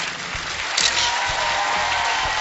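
Studio audience applause in a TV game show video game, a steady dense clapping wash lasting a couple of seconds without voices.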